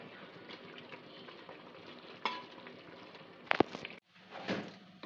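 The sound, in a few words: chicken curry simmering in a pan after adding coriander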